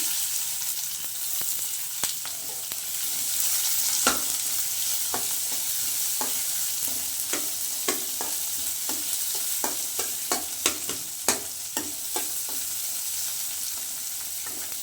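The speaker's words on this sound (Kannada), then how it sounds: "ಸ್ವಲ್ಪ ಕಡಲೆಬೇಳೆ ಕೆಂಪುಗಾಗಿ ಕಲರು ಚೇಂಜ್ ಆಗಿದೆ. ಅದಕ್ಕೆ ಈರುಳ್ಳಿ ಹಾಕತ್ತೀನಿ." Chopped onion frying with chana dal in a pan, a steady broad sizzle throughout with repeated sharp clicks and scrapes of a spoon stirring, close and fairly loud with no talking.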